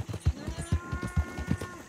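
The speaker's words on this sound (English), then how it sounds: "I think that's a cow I heard" A cow mooing in the open-world video game Red Dead Redemption 2, a low drawn-out bellow heard over rhythmic, rapid hoof clip-clops of a ridden horse, with no talking.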